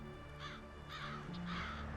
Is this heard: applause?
no